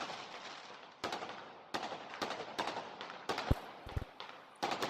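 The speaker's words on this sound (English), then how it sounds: "I'm watching from a distance how the fireworks" Fireworks exploding in Pistoia, Italy, watched from a distance: a series of sharp bangs and crackling bursts, some quick pairs, with rumbling tails between them and no talk.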